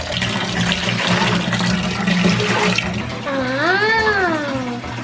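Water poured by hand from a container into a toilet bowl to flush it, in a rustic fisherman's house, a steady loud rush and gurgle running several seconds, with a voice and a high sliding whine near the end.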